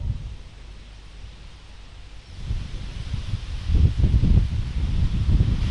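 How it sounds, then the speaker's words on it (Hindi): Strong winds from cyclone Nisarga on the Alibag coast in the Koliwada area, a rough roaring buffet of wind against the microphone that swells louder after a quieter start and keeps gusting, with no voice heard. "अलीबाग के कोलीवाड़ा इलाके में हूँ और बहुत ही ज़्यादा तेज हवाएं हैं।"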